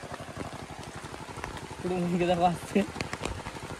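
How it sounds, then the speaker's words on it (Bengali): Heavy rain patters steadily on a surface while a voice speaks briefly over it near the middle. "এত বৃষ্টি, প্রচুর বৃষ্টি পড়তে লাগলো"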